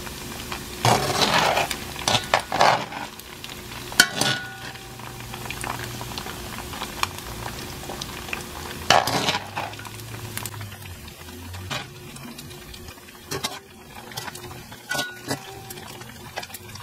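Mushrooms and aromatics sauté in heated oil, giving a soft, bubbling crackle with intermittent louder bursts and clattering stirs near the pan, fading to a quieter simmering hiss later on.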